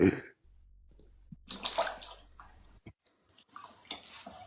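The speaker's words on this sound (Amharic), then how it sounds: "ያዚ ቶሎ ውሃውን አንሺና አፍስሽ" Water poured out in two short, splashy gushes with quiet gaps between them, fairly close and moderately loud.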